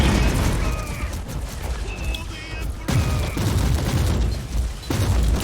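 Rapid bursts of gunfire pound a Hellbrute in the game Warhammer 40,000: Inquisitor - Martyr, loud, dense and nearly continuous, with booming impacts, brief gaps and a few higher mechanical tones.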